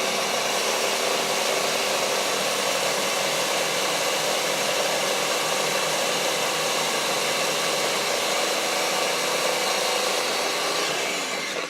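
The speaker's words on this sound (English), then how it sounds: "it works better in the smaller blender that I showed you originally" A blender grinds nuts into flour for a keto recipe, producing a loud, steady, high-pitched motor whir with gritty grinding that runs continuously for the whole stretch, with no talking.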